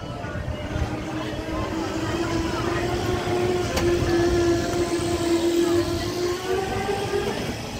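A tram rumbles past with a steady rolling drone and a faint rising whine, continuous for several seconds with no clear speech.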